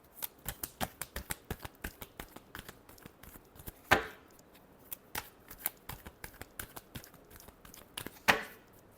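Tarot cards being shuffled by hand in a quick run of crisp, close riffling flicks, with a couple of louder snapping bursts where the deck is bridged, and no voices.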